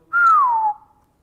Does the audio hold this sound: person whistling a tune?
yes